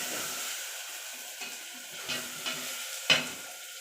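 Masala frying in a pot over a wood-fired stove for gongura mutton biryani: a continuous loud sizzle with a few sharp scraping stir strokes near the end.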